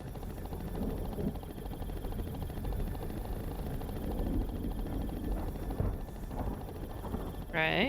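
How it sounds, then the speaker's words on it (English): Helicopter whirring nearby in a game, a steady rotor drone beneath people talking, hovering over reeds. "The sound of the chopper is probably frightening her."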